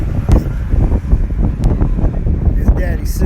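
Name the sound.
wind blowing outdoors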